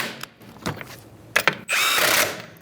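A power tool runs lug nuts onto a 2010-2013 Kia Soul rear wheel with a 21 mm socket, giving a few short clicks and buzzes, then a louder sustained whir for about a second.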